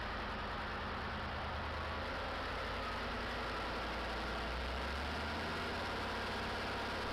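An air-cooled diesel engine runs steadily on a test stand, a dense, unbroken low rumble with a constant broadband roar of cooling airflow and exhaust, no voices.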